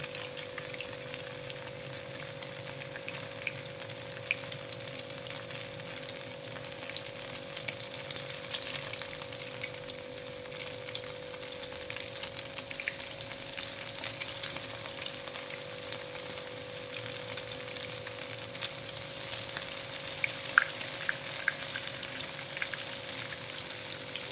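Fish shallow-frying in a small amount of oil sizzles steadily in a pan, with a constant close crackle and faint spattering pops, plus a steady hum underneath.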